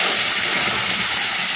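Chili powder, black pepper and ground tomato paste sizzle in hot oil, producing a loud, continuous close-up hiss with no pauses.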